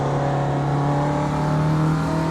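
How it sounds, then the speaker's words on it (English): A Ginetta G40 race car in the video game Automobilista 2 accelerates under full throttle, its engine drone loud, close and continuous with strong steady tones, no voices over it. "Get the car up to speed."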